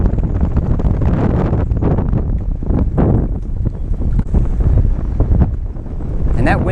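Wind on Lake Bistineau while fishing for crappie and catfish from a boat on a windy day, a loud steady rumbling buffet across the microphone with a voice faintly present underneath.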